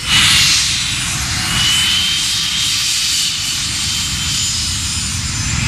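Aircraft engines of the French aerobatic team roar at an airshow, a loud sustained drone with a broad rushing wash that swells and eases slightly as the planes pass close overhead.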